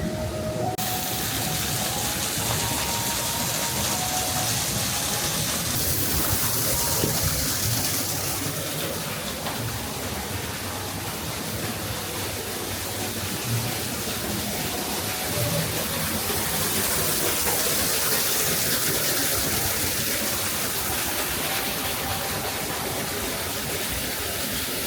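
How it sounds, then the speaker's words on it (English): Steady rushing water of a waterfall in a theme park nature area beside the Tree of Life sculptures at Animal Kingdom, a continuous broadband roar that stays even and fairly close throughout with no talk over it. "with a waterfall in the background, tree right above it."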